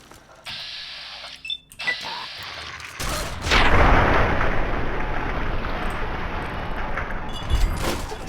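A Nuka-Cola grenade explodes in Fallout 3 with a sudden loud blast, followed by a long roaring, crackling wash of noise that slowly fades, after earlier game sounds and tones.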